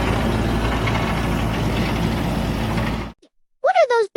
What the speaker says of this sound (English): It is a mechanical harvester, brushing and collecting fallen apples from the ground.